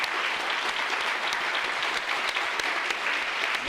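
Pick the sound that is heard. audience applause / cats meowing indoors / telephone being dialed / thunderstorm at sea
audience applause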